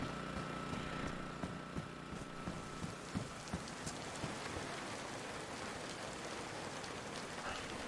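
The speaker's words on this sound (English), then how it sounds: "The rain is coming down quite hard today." Heavy rain falls steadily in the survival game DayZ, a dense continuous hiss with scattered louder drops and faint low rumbling, moderately quiet and unbroken, with no speech.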